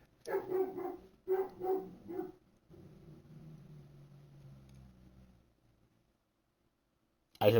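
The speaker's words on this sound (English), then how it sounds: "I hear the dog" A dog barks in short bursts nearby, two quick clusters of yaps followed by a lower, drawn-out whine that tapers to silence before a sudden loud noise at the very end.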